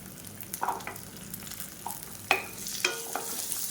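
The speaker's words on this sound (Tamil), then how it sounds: "வெங்காயம் நல்லா தூள் வதங்கி வரணும் அந்தளவுக்கு நல்லா வதக்கிடுவோம்" About twenty small onions with garlic cloves sautéing in a pan, giving a soft, quiet sizzle broken by a few scattered scrapes and clicks of stirring, with no voices.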